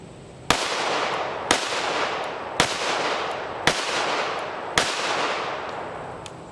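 Five evenly spaced, loud pistol shots from a Smith & Wesson M&P 22 Magnum, each a sharp crack followed by a ringing decay, about one second apart with no talk.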